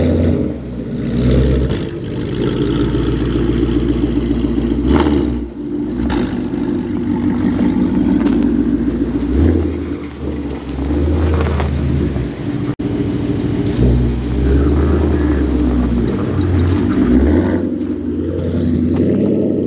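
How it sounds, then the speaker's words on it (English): A Ford Mustang's engine warms up before snow drifting, idling with a deep, loud rumble and rising into repeated throttle revs that swell and fall over about twenty seconds, heard alone without talk. "we'll let it get a little bit of heat into the engine before we take it out"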